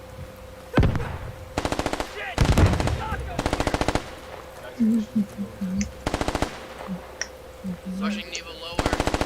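Rapid machine-gun bursts and single shots in the tactical shooter game Squad, loud and repeated throughout, with players talking over the gunfire between bursts.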